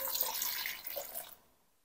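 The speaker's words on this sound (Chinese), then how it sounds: "加入清水。" Clean water is poured into a bowl of red dates and flour, a brief close splashing trickle that runs for about a second and a half, then stops abruptly.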